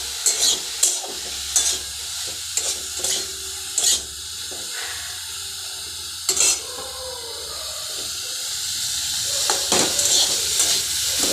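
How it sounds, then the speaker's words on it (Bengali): Cauliflower and neem leaves fry in a pan over a steady low sizzle, while a spatula scrapes and clinks against the pan in irregular bursts of stirring. "দেখুন ফুলকপি নিম পাতা ভাজা কমপ্লিট হয়ে গিয়েছে।"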